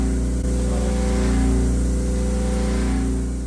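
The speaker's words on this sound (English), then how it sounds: "The stall and subsequent recovery resulted in this periodic sound," A small wind turbine's blades stalling and recovering produce a loud steady droning hum with strong tonal harmonics and a slight periodic swell, close and continuous with no talking.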